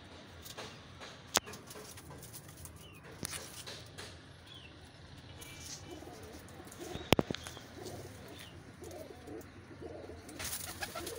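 Rampuri pigeons in a Lahore breeder's coop coo faintly over steady background noise, with occasional sharp knocks and chirps.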